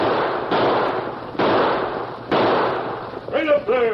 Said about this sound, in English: firing shots into the air.